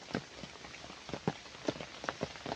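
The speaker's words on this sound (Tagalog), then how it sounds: "lakas ng ulan guys" Heavy rain pattering on surfaces during a hike to Wu Kai Sha waterfalls and Ngau Wu Reservoir, with scattered drips and splashy taps, some close and distinct, under a faint continuous wash.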